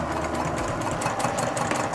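A sewing machine stitches fabric for a zippered tote bag at a 2.5 stitch length, its motor and needle making a loud, steady, rapid mechanical whir that runs without a break throughout.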